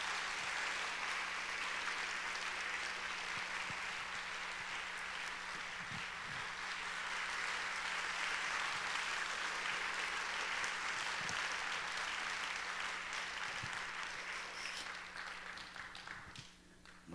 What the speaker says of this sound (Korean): 우리 박수로 맞이해 주시기를 바랍니다